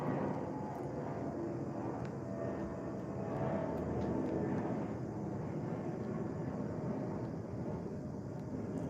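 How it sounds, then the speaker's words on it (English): A fixed-wing airplane passes overhead, its steady broadband engine rumble filling the background throughout at a moderate, fairly constant level with no talk. "Sorry, there's a plane."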